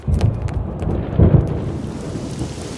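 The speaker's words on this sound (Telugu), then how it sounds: "ఫోన్ ఎట్టగానే ఉరుములు మెరుపులు వచ్చేస్తున్నాయంటే వెంటనే వర్షం వచ్చేద్ది" Thunder rumbling overhead with rain: deep, loud rolling booms in two swells over a hissing rain wash, fading out toward the end, no voices.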